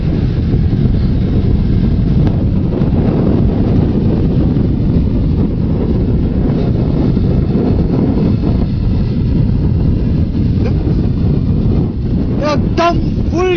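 A motorbike is ridden fast along a highway, with heavy, steady wind roar buffeting the microphone throughout and a low engine drone buried underneath.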